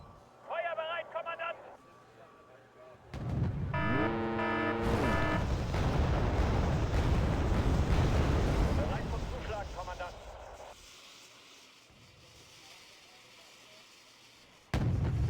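Mortar fire and explosions in a World War II strategy video game, with loud booming blasts and rumbling bursts that swell and fade over several seconds, mixed with game sound effects and a sudden final impact.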